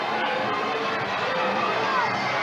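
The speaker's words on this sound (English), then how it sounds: "That's livening this crowd up even more." Ice hockey fans in an arena roar during a fight on the ice, a dense, steady wash of crowd cheering with no breaks.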